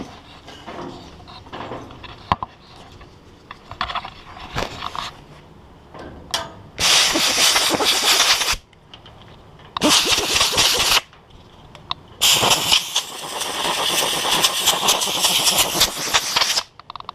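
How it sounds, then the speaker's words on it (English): Compressed air blasts through a motorbike air filter in three loud, hissing bursts, the last one longest, after quieter rubbing and handling noises. "if you have an air compressor, just blow from the back and then the front"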